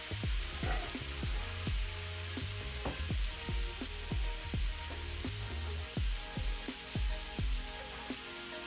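Grape tomatoes sizzle and spit in hot oil in a pan. The steady hiss is broken by frequent sharp pops and crackles, close and fairly loud.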